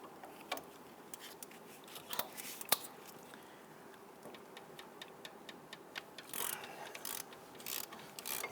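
A ratchet wrench clicks in quick, uneven bursts as a 12mm bolt is loosened on the front brakes of a 2000-2006 Toyota Tundra, with close, sharp ticks and a few heavier knocks.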